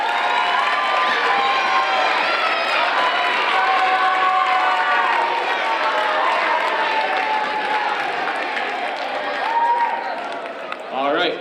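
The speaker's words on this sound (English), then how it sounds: "give a quick round of applause for all of our homeroom winners right now" A school audience at a middle school spelling bee applauds and cheers for homeroom winners, a sustained wash of clapping, whoops and children's shouts with voices mixed throughout.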